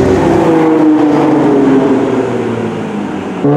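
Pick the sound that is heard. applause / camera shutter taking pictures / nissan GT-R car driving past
nissan GT-R car driving past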